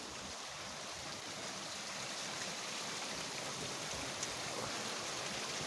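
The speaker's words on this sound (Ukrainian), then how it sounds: "Вода з ринви як летить прийти" Rainwater pours steadily from a gutter during a heavy downpour over a flooded vineyard, a continuous close rushing splash with no pauses and no voices.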